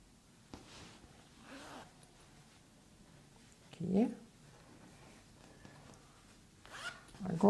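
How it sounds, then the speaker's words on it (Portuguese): Short, faint rasps of a clothing zipper come as it is handled while a fabric phone-and-document wallet is sewn. A few separate zipping strokes sound close by against quiet background handling, with soft talk in places. "Agora vamos pegar o outro zíper."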